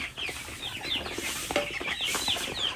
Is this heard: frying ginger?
no